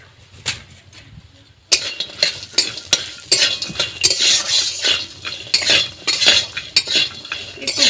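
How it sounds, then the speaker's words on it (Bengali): Broken bori lentil dumplings frying in oil with salt and turmeric in a pan, with a soft hiss broken by repeated sharp scrapes and clinks of a utensil stirring against the metal, fairly close. "একটু ভেজে নিতে হয় হালকা করে"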